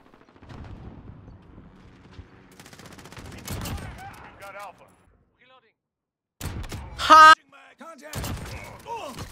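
Kar98K bolt-action rifle shots in a first-person shooter video game, several sharp cracks spaced apart with brief gaps of silence, mixed with game effects and someone talking over them.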